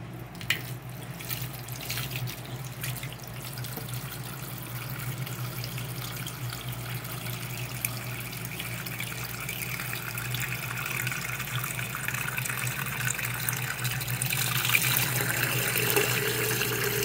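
Steady running water pours from a tap into a pressure cooker, a continuous rushing hiss that slowly brightens as the vessel fills.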